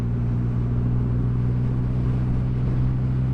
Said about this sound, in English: It might be the most interesting engine I've ever ridden.